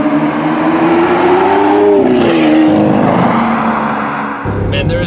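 A Lamborghini Aventador SV drives along a road, its engine a loud, steady close-up roar from inside with a rising and falling pitch as it accelerates, then shifts near the end.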